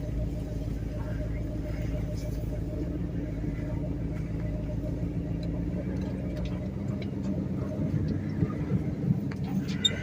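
A tow truck hauls a chained-down Mercury car out of the woods, its steady low engine rumble running throughout with faint rattles and ticks, while people talk over it.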